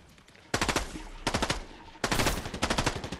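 Three rapid bursts of automatic gunfire in the Fortnite video game, each a loud, close rattle of quick shots separated by short pauses, with no voices.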